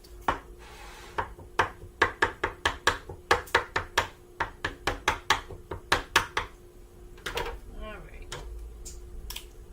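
A knife stabs repeatedly into a firmly pressed food in a small 8x8 baking dish, some two dozen sharp, close taps in a steady rhythm, followed by a brief voice.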